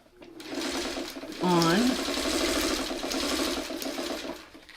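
Sewing machine stitching quilt pieces, a steady whirring run of a second or so in the middle, loud and close, with someone talking over the surrounding moments.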